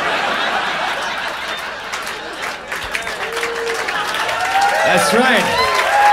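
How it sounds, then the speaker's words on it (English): A comedy club audience applauds and laughs at the end of a stand-up set, clapping swelling under a brief spoken line from the performer, with chuckles and scattered cheers rising toward the close. "Get some applause on that CD."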